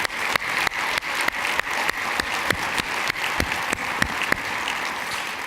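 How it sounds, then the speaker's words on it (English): An audience applauds the board of directors at a medical center event, with sustained, even clapping and sharper individual claps standing out at regular intervals across the whole stretch. "Please, a round of applause for the Board of Directors of Texas Medical Center."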